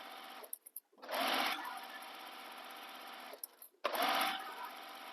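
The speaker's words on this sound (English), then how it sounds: "Just keep sewing all the way along" A sewing machine stitches a long seam along a tote bag in two steady runs, broken by short pauses, and is heard close and loud with no talking.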